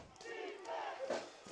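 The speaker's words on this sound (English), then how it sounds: "you hear the Whitewater crowd now trying to back their defense for the Warhawks" Whitewater Warhawks home crowd at a snowy D3 playoff football game against DePauw, a steady roar of cheering and yelling rising louder toward the end, heard at a distance without nearby talk.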